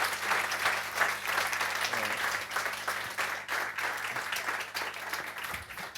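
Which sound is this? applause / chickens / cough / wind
applause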